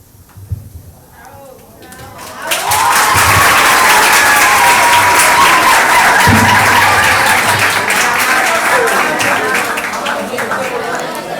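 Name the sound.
audience applause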